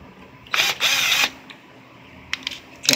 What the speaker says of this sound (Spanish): Pones el tornillo. Usas el atornillador de batería.